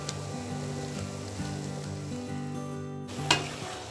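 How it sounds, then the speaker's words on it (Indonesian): A spicy eggplant stir-fry simmers and sizzles steadily in a pan, close and even, with a faint low hum underneath and one brief clatter near the end. No voices. "Dan ini kita masak sampai terongnya matang ya ibu-ibu, sampai airnya agak menyusut."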